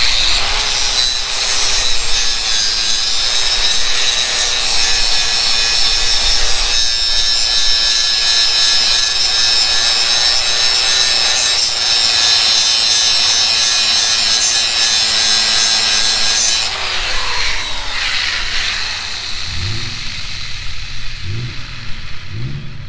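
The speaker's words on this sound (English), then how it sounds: "The grinder works." A DeWalt angle grinder powered by an Oupes 1100 watt solar generator runs continuously with a loud, high whine, then spins down near the end as a few dull knocks sound.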